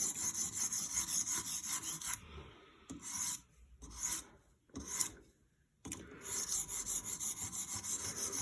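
A steel knife blade is rubbed along a coarse sharpening stone, giving steady, close rasping strokes that pause briefly a few times and then resume.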